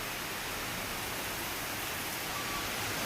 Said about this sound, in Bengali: প্রচণ্ড ঝড় বৃষ্টি হচ্ছে